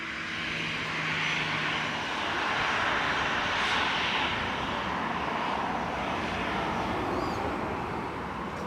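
A Jet2 airliner lining up on the runway at Leeds Bradford Airport gives off a steady, broad engine roar from some distance, holding level throughout with no speech.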